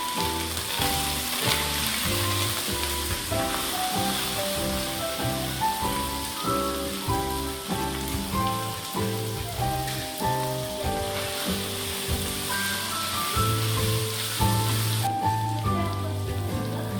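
Vegetables and tomato paste sizzling in hot oil in a home kitchen pan, a loud, steady crackle running unbroken under a layer of background music.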